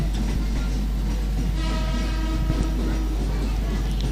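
A train rumbles past close by in Sawah Baru, a steady loud roar of rail noise with faint tonal squeals, under a background of talk at an outdoor religious gathering.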